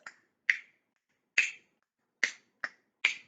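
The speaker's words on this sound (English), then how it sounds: "snapping is a percussion instrument" Six crisp finger snaps, close and loud, spaced unevenly with short silences between them.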